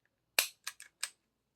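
An air gun is fired during testing of an AR Tactical Joules or Grimburg Juls pellet, giving one sharp close crack followed by three quicker, fainter clacks as something rattles afterward.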